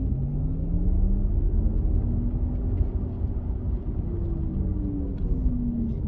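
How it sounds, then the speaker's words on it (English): Synthetic motor sound from a Porsche Taycan electric sport car played through the car's speakers while accelerating hard in sport mode, a steady loud droning hum with tones that sweep and shift over a deep road rumble, no talk. "Amplifier on the electric motor that amplifies throughout the speakers of the car, so you can actually hear it moving on a louder tone"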